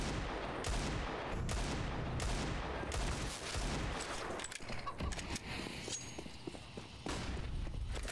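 Rapid gunfire from the video game CS:GO, sharp bursts of shots and footsteps packed densely throughout, loud and continuous with no speech over it.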